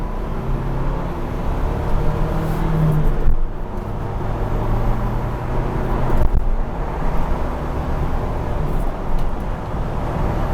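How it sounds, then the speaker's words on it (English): A 2021 Ford Bronco Badlands drops a gear and takes a light dab of throttle, its engine hum rising gently under steady road and cabin noise, heard from inside with no speech. "Dropping it down a gear to give it a teeny little bit of gas"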